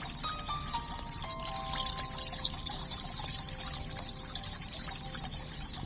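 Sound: water flowing in a fountain puzzle video game

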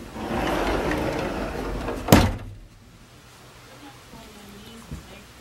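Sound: pocket door sliding in a cabin

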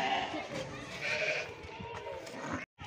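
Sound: sheep bleating

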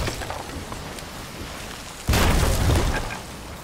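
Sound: cannon fire in Sea of Thieves video game

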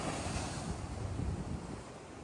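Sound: big ocean waves at Boa Viagem beach, Recife

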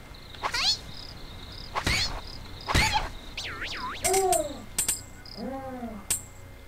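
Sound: monster death sound effect in the video game Miko Kagami adventure

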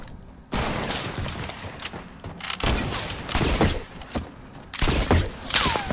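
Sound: gunfire from guns in Fortnite video game

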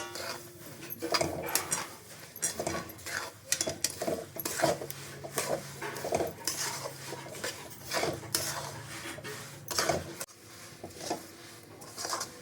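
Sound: stirring sesame seeds and peanuts in a pan

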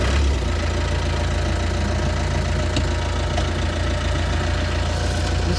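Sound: Tata Mobile pickup engine driving on highway

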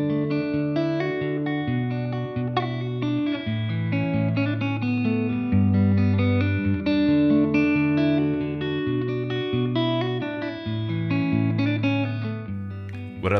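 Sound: guitar picking chords with common voicings

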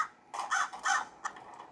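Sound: crow cawing in Hello Neighbor video game

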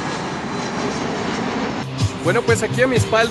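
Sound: airplanes flying overhead

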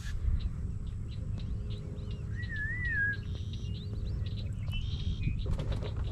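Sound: birds, pigeons or doves, calling near the water

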